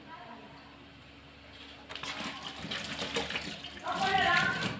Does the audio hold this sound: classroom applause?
no